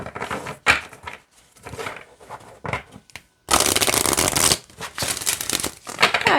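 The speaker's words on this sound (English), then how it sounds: "Let's see how they shuffle and we'll pull a card." Cards being shuffled in several quick riffling bursts, crisp and close, with short pauses between, the longest and loudest burst near the middle.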